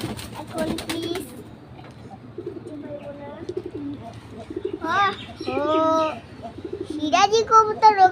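Sherazi pigeons bathing with other pigeons give soft coos and chirpy calls, close by, mixed with splashing flutters and a few other bird cries, with a voice briefly heard.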